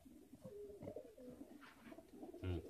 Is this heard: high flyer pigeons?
yes